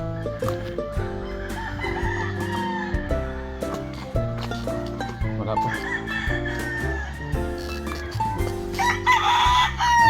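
Roosters crow repeatedly in a rural chicken yard with long drawn-out calls, amid steady clucking from hens, several birds close by and overlapping throughout.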